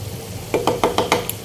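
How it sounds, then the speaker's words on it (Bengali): Egg frying in a pan while being stirred, with a run of quick scraping, sizzling strokes in a rapid rhythm over a low background hiss. "ডিম ভাজা শেষ হয়ে গেছে"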